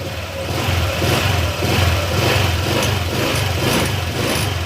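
A motorcycle engine with a ticking fault revs hard at full throttle, a loud, close, sustained drone with a pulsing rhythm and no talk over it.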